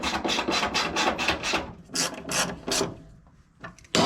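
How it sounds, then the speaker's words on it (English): A hand ratchet clicks in quick rapid bursts while tightening the steering column shaft of a Nissan S13 project car, then slows to a few separate strokes with short pauses, close and fairly loud. "Avoid having a bad day by tightening your steering column shaft."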